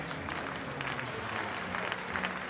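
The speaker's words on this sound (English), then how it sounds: "The applause being asked for by some of the pentathletes." Crowd applause in the arena at the World Athletics Indoor Championships in Belgrade, prompted by pentathletes, a faint, distant, continuous patter of clapping from the stands that stays even throughout.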